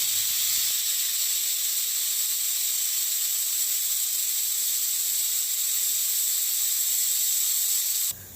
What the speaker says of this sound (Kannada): ಕುಕ್ಕರ್ ವಿಷಲ್ ಬಂದಾಗಿದೆ. ಇಳಿಸ್ಕೊಂಬಿಡೋಣ ಕುಕ್ಕರ್ನ.